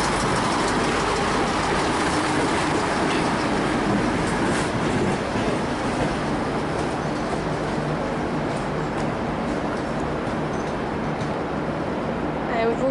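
A Sprinter diesel regional train pulls out of Southern Cross station, its engine drone and wheel rumble holding steady and fairly loud throughout with no talk.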